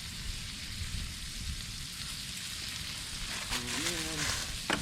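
Steaks seasoned with Weber Chicago steak seasoning sizzle steadily in a hot pan, a dense close hiss throughout, with a voice briefly speaking near the end.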